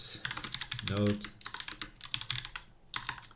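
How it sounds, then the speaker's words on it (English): Quick, irregular clacking of a computer keyboard as someone types C code for a compiler, close and clear in uneven bursts, with a brief low vocal sound partway through. "I need to make a macro for this shice because typing this is getting annoying."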